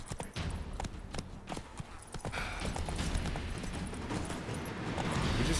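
Roach the horse gallops in The Witcher 3 with a steady stream of close hoofbeats over a rising rush of wind and movement noise.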